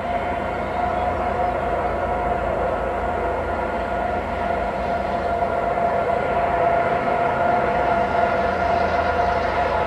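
A CP intermodal stack freight train led by two GE ES44AC locomotives rolls past in a continuous rumbling roar of wheels and cars, steady and fairly loud, with a faint tonal whine running throughout and no talking.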